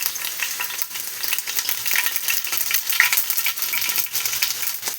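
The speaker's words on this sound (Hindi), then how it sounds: "ये तेल हमारा गर्म हो गया है, और इसमें हम ये सरसों डाल देंगे" Mustard seeds sizzle and crackle in hot oil, a dense steady frying hiss with scattered sharp pops throughout, close and fairly loud with no voices.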